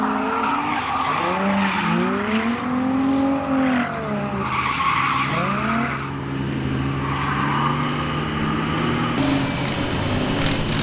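A Nissan 350Z drift car at a drift day, its engine stuttering and wavering in pitch with rising and falling revs and tire squeal, loud and close with no talking.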